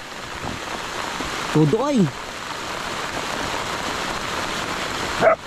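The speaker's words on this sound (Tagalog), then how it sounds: "Kahit po tudo ang ulan ay walang pakialam ano." Steady heavy rain pours down beside a rice paddy, a dense continuous hiss throughout, while a voice speaks briefly over it and a short vocal sound rises near the end.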